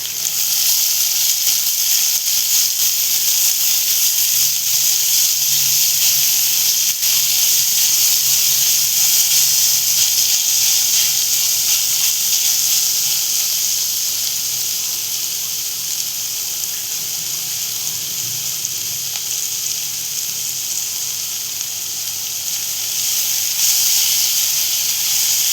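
Chopped onion sizzles in hot oil in a pan on a gas stove with the flame turned down, a steady close hiss and crackle that runs unbroken without talk.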